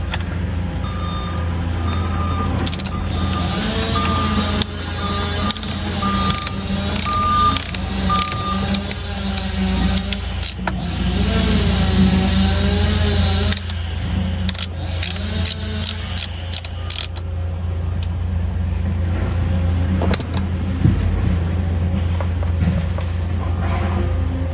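Ratcheting clicks and mechanical whirring from a tool loosening the steering wheel bolts on a car, with bursts of rapid clicking spread across a long stretch, close and fairly loud.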